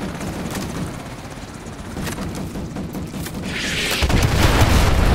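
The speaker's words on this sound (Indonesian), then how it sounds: "Oh iya, bisa meledak" In-game explosion in Call of Duty Modern Warfare 2 Remastered, with a rumbling boom and a swelling blast near the end over a steady background of combat noise, fairly close and loud.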